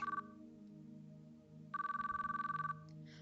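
A telephone rings in the visual novel Chaos;Child, with two bursts of bright electronic trilling separated by a pause, over a quiet sustained musical background.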